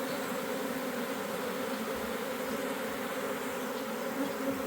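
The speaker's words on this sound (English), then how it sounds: "Should all start flapping their little wings and going inside." A swarm of bees moving into a new hive box fills the air with a dense, continuous buzzing from many wings. It is steady and close, with no voices.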